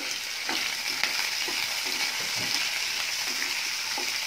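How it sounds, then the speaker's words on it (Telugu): Onions with curry leaves fry in a pan for a tomato and pepper rasam, a steady bright sizzle broken by regular scraping stirs roughly every half second, close and alone. "సో బాగా ఫ్రై అయ్యేంత వేగించుకోవాలి."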